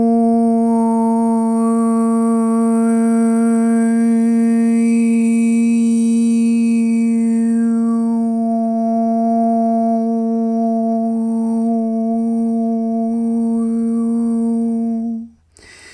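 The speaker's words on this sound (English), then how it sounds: "So the tone with a harmonic will sound like this." A single sustained vocal tone is held for about fifteen seconds while a higher overtone glides up and back down above it as the mouth shape changes, steady and close, ending abruptly.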